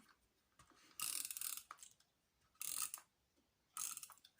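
Tape glue runner laying adhesive for a ribbon on a handmade card, heard as three short, close ratcheting rasps separated by quiet pauses, soft overall and with no talking.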